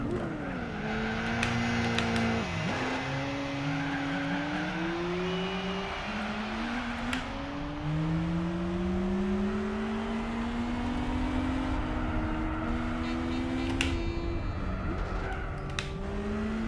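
Race car engines in the video game Gran Turismo 4, several cars revving and shifting with rising and falling engine tones, plus tire squeal, continuous and fairly loud without talk.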